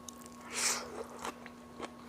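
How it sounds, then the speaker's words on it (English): Close, crunchy biting into baked cabbage followed by a few soft chewing sounds, quiet and isolated with no talking. "tune away if you don't like eating noises."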